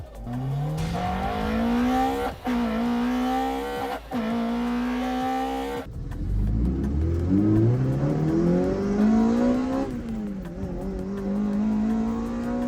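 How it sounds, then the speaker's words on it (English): A Toyota 2ZZ engine on a stock ECU revs hard, pitch climbing steadily before a sudden sharper jump as the lift cam engages, then revving again through several rising pulls. "listen to the way the engine enters lift"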